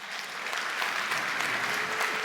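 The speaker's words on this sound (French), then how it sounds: "Ah, si, c'est des applaudissements, clairement." Steady applause from an audience at a talk on artificial intelligence and new technologies, a dense even patter of many hands clapping that holds throughout and swells slightly at the end.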